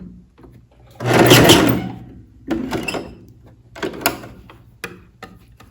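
A sewing machine backstitches along a fabric belt seam in short bursts: a loud mechanical whir of stitching, then quieter clicks and a second brief run of the motor, with handling knocks between.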